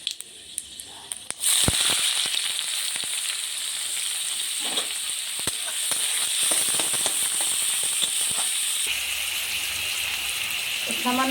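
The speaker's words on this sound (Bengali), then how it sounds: "প্রথমে আমি এলাচ দিয়ে দিলাম, তারপরে জিরে আর মেথি ফোড়ন একটু দিয়ে দিলাম, তেজপাতা দিয়ে দিলাম।" Whole spices of cardamom, cumin, fenugreek and bay leaf hit hot oil with a sudden loud crackle, then a sustained dense sizzle with sharp spitting pops scattered throughout, continuing steadily close by.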